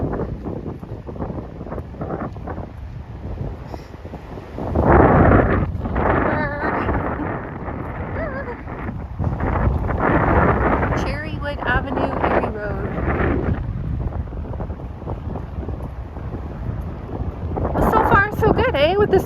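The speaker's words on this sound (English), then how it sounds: "Can you hear the wind really bad?" Heavy wind buffets the microphone during a lakeside drive toward Crystal Beach, a loud rumbling roar that swells and gusts throughout, with a voice speaking underneath.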